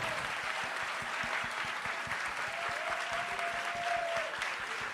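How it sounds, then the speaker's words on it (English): Applause from a rally crowd at a Working Families Party statewide gathering, honoring elected officials, heard as steady, dense clapping that holds at an even level throughout. "And if we can give a round of applause."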